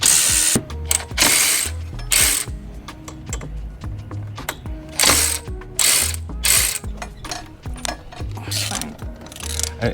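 Ratchet wrench clicking steadily as nylock nuts are tightened on a Harley-Davidson motorcycle, rapid pawl clicks in repeated bursts, close and fairly loud with no talking.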